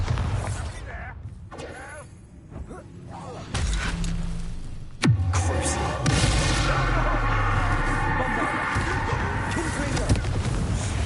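The Bombarda blasting spell from Hogwarts Legacy lands as one sharp bang partway through, then rumbling, crackling debris, with game noise and mechanical creaks beforehand and a voice speaking over parts of it.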